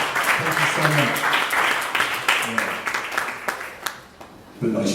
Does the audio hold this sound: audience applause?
yes